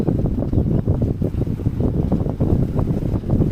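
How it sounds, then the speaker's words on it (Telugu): Strong wind blows hard and continuously, a loud low rushing roar buffeting the microphone throughout. "గాలి బాగా విపరీతంగా ఉంది."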